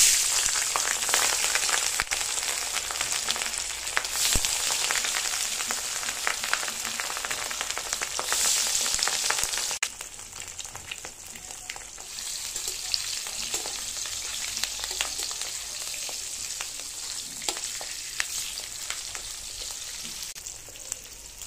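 Katla fish frying in hot oil in a wok, a loud, dense close sizzle with spattering crackles and occasional stirring, easing slightly partway through.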